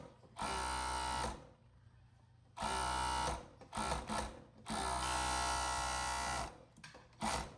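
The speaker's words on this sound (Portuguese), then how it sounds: "passar o overlock na bainha da blusa" An overlock sewing machine hems a blouse at close range in three or four whirring bursts of varying length. A steady mechanical buzz starts and stops sharply, with quiet pauses between the runs.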